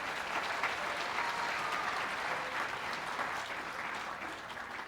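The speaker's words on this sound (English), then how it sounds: "So let's clap again for Miss Amanda McCullough" Sustained audience applause fills a school auditorium after a middle school drama club's performance of Matilda Jr., a dense, steady wash of many hands clapping at close range that holds for several seconds without letting up.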